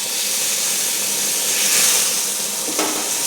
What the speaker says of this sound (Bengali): শুধু লেজাটা ভাজছি।